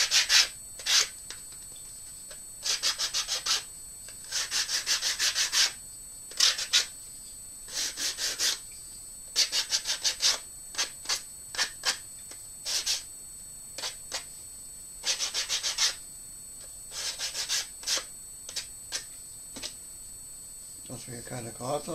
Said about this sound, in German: ich habe das Ganze dann nochmal die Kanten so von innen gebrochen mit einem Schleifpapier